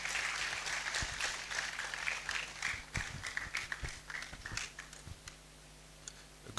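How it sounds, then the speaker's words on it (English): Applause from the audience at a university optometry white coat ceremony, a dense patter of clapping that thins out and fades toward the end, heard from a distance in a large hall. "Let's applaud him again whilst he makes his way up"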